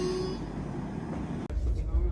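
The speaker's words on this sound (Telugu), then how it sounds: "హాంకింగ్ విన్నారా?" An AP Sampark Kranti Express train sounds its horn at a station: a steady tonal blast that fades out near the middle, followed by rumbling as the train moves, with background voices.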